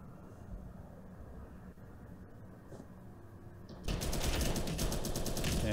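Rapid automatic gunfire in a competitive tactical shooter match, distant and muffled at first, then suddenly loud and sustained from about four seconds as a dense burst of shots fills the scene.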